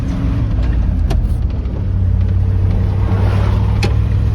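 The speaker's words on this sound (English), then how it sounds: "the treads on them sling some rocks, so they make a little bit of noise" A 1987 Ford ramp truck drives along with a loud, steady engine drone and low road rumble, and a few sharp ticks mark rocks slung by its new tire treads.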